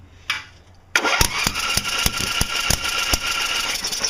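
A Murray lawn tractor engine sputters and catches after a cranking burst, running unevenly with rhythmic popping misfires, loud and close, as if starved of fuel.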